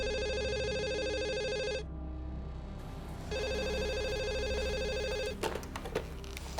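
A telephone rings on an outgoing call: two long electronic ring bursts separated by a short pause, loud and close, followed by a few clicks and knocks.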